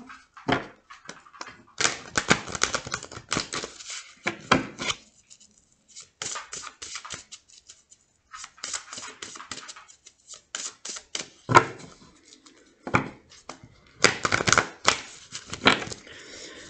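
Tarot cards being shuffled by hand in bursts of dry, rapid riffling and slapping, with short pauses between handfuls, close and fairly clear.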